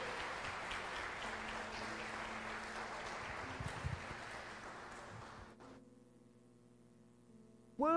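A church congregation applauds through a Portuguese-language worship service, a dense wash of clapping that carries for over five seconds and then drops away to a low hum before a brief loud burst at the end.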